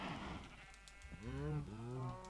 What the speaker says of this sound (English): That's too many cows to keep in too small a space.